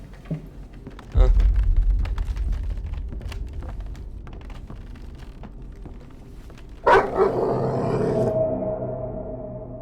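A demon dog in the horror game Layers of Fear lets out a deep, rumbling growl that swells at first, then fades into a long low drone before a harsher second burst rises later.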